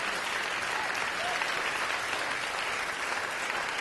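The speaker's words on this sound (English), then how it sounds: "So, a round of applause for Jennifer, please." Steady, dense applause from a large audience at a Mondavi Center fall festival event, sustained and even for the whole stretch with no voices breaking through.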